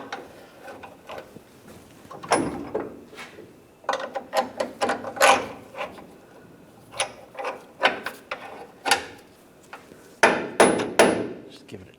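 A hammer or rubber mallet taps a front lower control arm bolt on a 2011-2018 Ram 1500, many sharp metallic knocks in uneven clusters, close and fairly loud, with faint rattles between.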